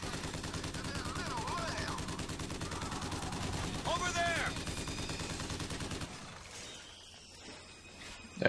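Gunfire in the shooter video game Bioshock Infinite crackles in steady rapid bursts with shattering impacts, under a low continuous game ambience, then gives way to quieter background sound near the end.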